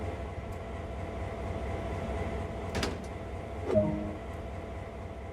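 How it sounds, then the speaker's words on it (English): A locomotive cab door on a GP38-2 in Train Sim World 2 on the Sand Patch Grade slides open with a short clunk and latch rattle over a low idling engine hum, followed by a second metallic thump. "Open the cab door and proceed inside."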